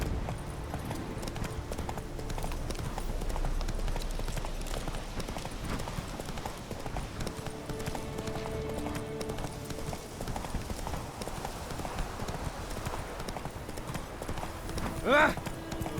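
Roach, the horse in The Witcher 3, gallops with rapid, steady hoofbeats clip-clopping close up over outdoor game ambience, and a brief sharp sound flares near the end.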